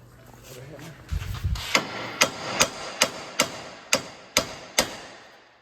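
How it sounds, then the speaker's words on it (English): After a brief mumble of talk, a hammer strikes a steering knuckle on a 2004-2011 Ford Focus about eight times in a steady rhythm, each blow sharp, loud and close. "we can just give the knuckle a little hit with the hammer to shock it"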